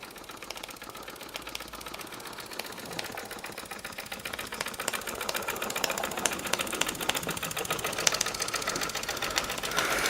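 A Junior Engineer SE-100 model steam engine with a small boiler runs on its own, a fast, steady mechanical chatter that stays even and close throughout.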